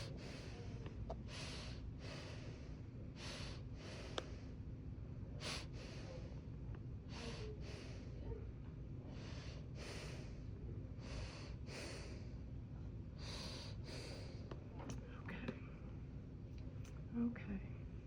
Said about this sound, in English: I'm gonna take that big deep breath in and out